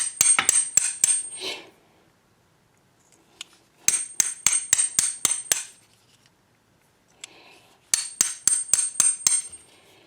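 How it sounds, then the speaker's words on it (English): The side of a light hammer taps a brass pipe fitting on a slimline transmission, in three bursts of six or so sharp metallic rapid strikes separated by pauses, close and ringing. "I'm using the side of the hammer because it's much easier."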